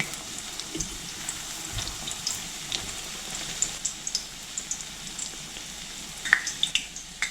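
Meat-filled crepes (benderyky) frying in oil, a quiet steady crackle with scattered small pops and spits.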